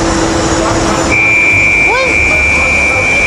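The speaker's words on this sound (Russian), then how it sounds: "Вот уже что-то пищит." A steady electronic beep sounds on the factory floor of a Spanish ceramic tile works where tiles are glazed, a high sustained tone over machinery hum, with a brief exclamation from a woman.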